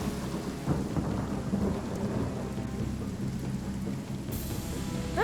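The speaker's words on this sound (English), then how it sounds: "Let me cast rain because there's some surfaces that need to disappear." A rain spell in Divinity: Original Sin brings steady, heavy rainfall hissing continuously with deep thunder rumbling underneath, loud and unbroken throughout.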